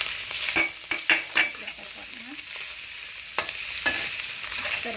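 Pork belly fries and sizzles in oil in a pan for stir-fried long eggplant, with a steady crackling hiss broken by sharp clanks of a spatula stirring against the pan.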